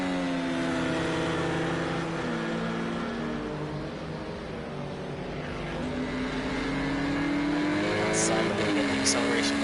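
A GT4 race car accelerates down the straight at Oschersleben, its engine note rising in steady harmonic sweeps through the gears, with a commentator talking over it throughout.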